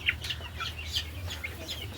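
Several fancy crested chickens from Kottakkal give a run of short, sharp clucks and chirps, spaced irregularly over a low constant drone.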